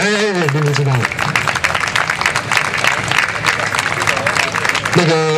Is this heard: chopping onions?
no